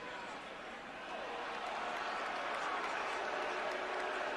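A distant college football stadium crowd at Penn State versus Michigan State reacts to a penalty flag, a broad, faint roar that swells after the first second and holds steady.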